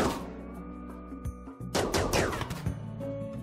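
Gunfire from the RimWorld video game, a headshot: a sharp burst of shots with a thudding impact midway, set over a steady game music bed, moderately loud and without talk.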